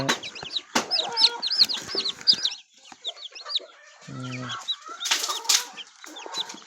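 Newly hatched chicks peep in rapid, high chirps throughout, close by and fairly loud, while a hen gives a few low clucks near the middle.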